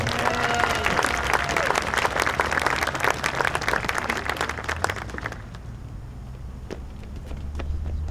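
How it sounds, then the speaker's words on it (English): An audience at a Veterans Day ceremony in Belleville, Illinois applauds a kindergarten-through-second-grade contest winner. The clapping is dense and sustained for about five seconds, then thins to a few scattered claps over background murmur. "Give her a round of applause"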